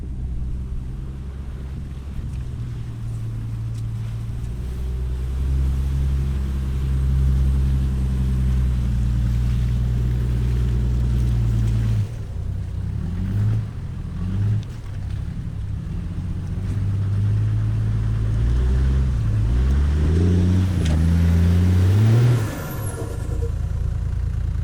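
Off-road four-wheel-drive trucks on 35-inch mud tires and 33-inch all-terrains crawl through Grand Mesa National Forest, engines droning low and steady with repeated revs and rising pulls as they work over rough ground.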